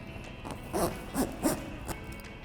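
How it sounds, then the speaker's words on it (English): Back zipper of a Bestop Supertop soft cover on a 2009-2018 RAM 1500 truck being zipped shut, heard as several short rasping pulls in a quick uneven sequence, close by. "now we can do the back zipper"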